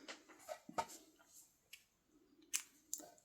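Scissors snip through crochet yarn in a few sharp, close, quiet clicks separated by pauses, with no talk.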